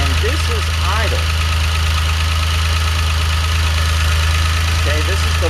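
A DeLorean engine idles steadily at its lowest RPM, a constant low rumble running throughout, with faint higher chirps near the start and end.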